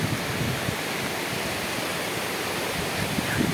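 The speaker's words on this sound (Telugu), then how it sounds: "ఇదే హెబ్బే వాటర్ ఫాల్స్." Hebbe waterfall in Karnataka roars as a steady, dense rush of falling water, loud and unbroken throughout with no voices.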